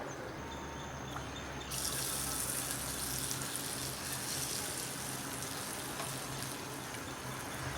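Sweet appam batter is poured into hot oil for Karthigai Deepam and sets off a loud, steady, hissing sizzle that starts in a burst and keeps going close by, with no speech.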